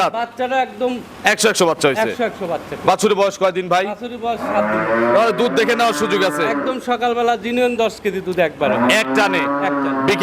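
Holstein Friesian cows moo repeatedly at a cattle market, with long, loud, drawn-out calls mixed in with people talking nearby.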